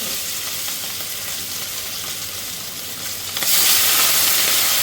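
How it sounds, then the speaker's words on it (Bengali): Marinated katla fish pieces hit hot oil with a dense, loud, continuous sizzle that swells sharply near the end into a stronger hissing roar, with no voices. "মাছগুলোকে আমি খুবই ভালোভাবে লাল লাল করে ভেজে নেব"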